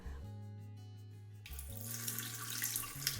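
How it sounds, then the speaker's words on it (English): Water pours out of a glass sprouting container through a mesh lid, a steady close splashing stream that starts halfway in and runs on over a low hum, with no talking. "replace the regular lid with the mesh lid and drain out all the water"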